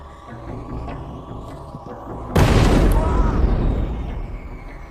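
A loud bomb blast in a university computer science department's coffee room erupts suddenly midway, a broad roaring burst that lingers and slowly fades over a low rumble.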